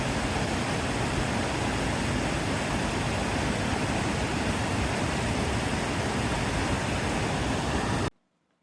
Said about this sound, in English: What it lacks in height, Cedar Creek Falls makes up for in character.